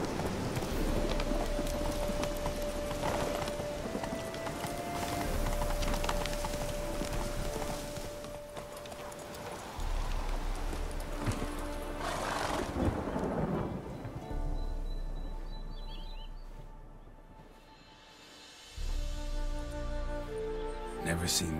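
In The Witcher 3: Hearts of Stone, a horse gallops with rapid hoofbeats through a heavy rainstorm with rumbling thunder, mixed with game music and spoken dialogue; no clear neigh stands out.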